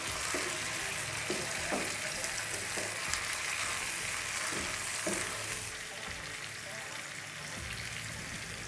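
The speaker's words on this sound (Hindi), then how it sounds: "दरमियाने साइज़ के जो टमाटर काटे थे, सब्ज़ मिर्च कटी हुई, ये तीनों चीज़ें डाल के हम इनको हल्का सा भूनेंगे" Chopped tomatoes and green chillies fry lightly on a tawa, giving a steady, dense sizzle. Soft scraping strokes of stirring break through it at irregular intervals.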